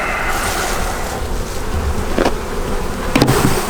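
Bees buzz steadily and loudly close by around an abandoned beehive outdoors, a dense continuous drone with a couple of brief knocks near the end.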